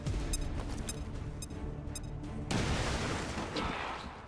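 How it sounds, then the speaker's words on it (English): A grenade blast in the strategy game XCOM 2 bursts in loudly midway through, with a broad rumbling explosion that decays slowly over dense game ambience and earlier tonal effects. "Grenade lancée."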